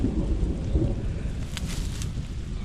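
Low rumbling thunder rolls in the distance over a garden, steady and deep, with faint patters of rain and rustling over it.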